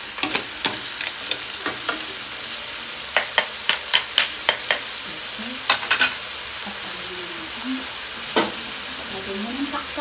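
Sautéed crab seasoned with oyster sauce sizzles steadily in a pan while a utensil stirs it, adding repeated sharp scrapes and taps against the pan over the continuous frying hiss.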